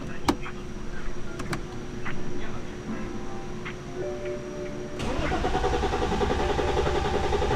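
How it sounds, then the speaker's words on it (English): A car with a cut starter wire in the engine bay, its starter motor cranking steadily without the engine catching, a continuous churning grind that grows louder and denser partway through, with faint background noise. "there it goes, it's cranking."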